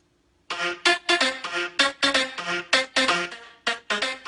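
Nexus PL Voice Plug 1 synth voice without Camel Fat saturation, a thinner, more robotic vocal patch firing choppy rhythmic stabs after a brief silence, clear and alone.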